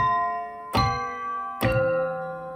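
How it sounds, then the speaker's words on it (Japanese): Two struck bell tones played from a MIDI instrument in Pro Tools ring out one after another, each a bright clear strike with a long sustained, humming decay. "では実際に鐘の音をちょっと、打ち込んでいきましょう"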